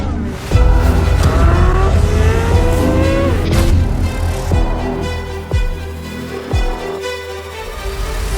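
Engines rev and roar at a busy Cars and Coffee car show: several loud, close bursts of rising engine pitch with sharp blips and tire noise, continuous throughout.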